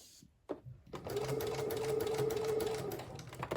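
Sewing machine stitching fabric and batting for a bowl cosy, a brief click and pause and then a steady close whirring run of about two seconds, with faint talk around it.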